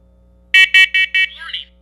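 A loud carbon monoxide alarm sounds four sharp, evenly spaced beeps, followed by a brief fading chirp, close by and otherwise quiet.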